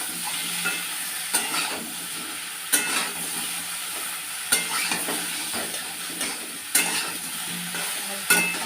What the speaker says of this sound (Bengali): কড়াইতে নিয়ে যাচ্ছি, নিয়ে দেখো বেগুন আর আলুটা বসে খুব সুন্দর হালকা লাল লাল করে ভেজে নিচ্ছি